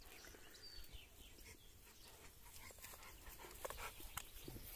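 An American bulldog pants softly and rapidly close by outdoors after drinking water, a faint, steady breathy rhythm with small snuffles and no talking.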